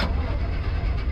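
A car engine turning over in the video game Pacific Drive, a loud, continuous mid-pitched mechanical rumble filling the short moment without speech.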